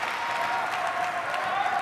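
A crowd at a game-point moment in a sports match applauds and cheers steadily, a dense continuous roar of clapping filling the space, fairly loud, with some voices mixed in.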